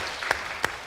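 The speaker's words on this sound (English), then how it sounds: "let's applause for Sarah anyway" A few sparse, separate claps from the audience at a feminist finance forum, briefly marking a welcome for a team member, with two sharp hand claps standing out over quiet room noise.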